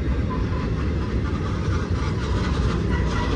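A freight train rolls steadily past close by at Sullivan's Curve, a continuous broadband rumble and rattle of railcars with clickety-clack over the rails, a worn or faulty wheel among them, without pause for the whole stretch.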